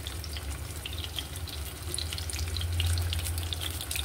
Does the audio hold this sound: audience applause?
no